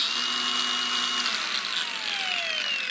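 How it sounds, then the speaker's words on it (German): Cordless angle grinder with a thin cutting disc, a loud steady high-pitched whine that holds for about a second and a half, then slowly drops in pitch as the disc winds down, with no talking. "Mit einer dünnen Scheibe und einer ganz normalen Flex."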